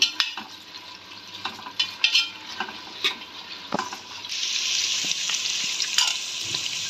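Sliced onion fries in oil with cardamom and other whole spices: irregular spatula scrapes and knocks over a sizzle that swells into a louder, steadier hiss partway through.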